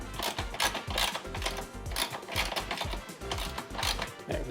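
A 10mm ratchet cranks down a bolt on a lightweight battery mount in a 2020 Subaru WRX engine bay, giving a steady run of quick, close clicking strokes with no talk.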